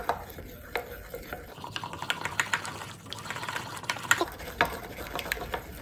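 Homemade mayonnaise whisked by hand in a bowl without a mixer, a steady run of quick, soft scraping and tapping strokes up close, with no one talking.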